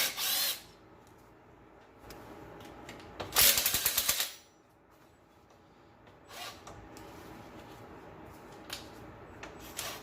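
Bolts being removed from an engine bracket on a 1998 JDM Subaru Legacy 2.0L wagon, with a loud burst of ratcheting or power-driver rattling in the middle, shorter clicks and clatter around it, and a quiet background hum in between.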